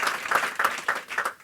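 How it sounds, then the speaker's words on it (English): An audience at a symposium applauds, with a burst of clapping in uneven pulses, moderately loud and close, with no talking during it. "could we have a round of applause for all of their remarks and work?"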